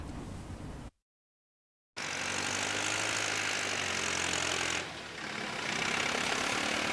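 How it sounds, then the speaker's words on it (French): A tractor engine runs at the official launch of an agricultural campaign in Kourgou, Tenkodogo commune, a steady low drone with a brief total dropout near the start, then a continuous loud hum that dips slightly before resuming. "Le vrombissement de ce tracteur ici à Gourgou dans la commune de Tenkodogo"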